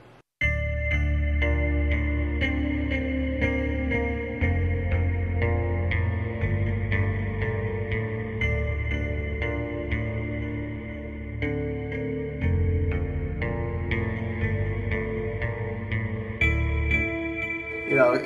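Sampled bass guitar from Spitfire Labs treated with delay and reverb, a sustained, building melodic line with echoing tails over about eighteen seconds, full and close with no voices.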